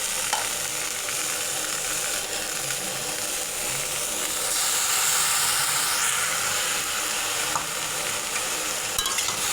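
A spice paste of ground spices mixed with water is stirred into fried potato and cauliflower in hot oil, giving a steady, loud sizzle and hiss with scraping stirs that surges briefly partway through.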